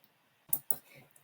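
Two quick, quiet mouse clicks about a fifth of a second apart, made while running a workflow in the n8n automation software, with a faint softer tap after.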